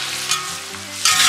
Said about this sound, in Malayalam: ഇത് നമുക്ക് എണ്ണയ്ക്കകത്ത് വഴറ്റിയെടുത്താൽ മതി ശരിക്കും, ഈ ഇതൊന്ന് വാടി വന്നാ മതി.